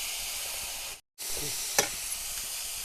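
Washed moth beans (matki) sauté in a pan with a soft, steady hiss of frying. A brief pause and a light clink of stirring follow.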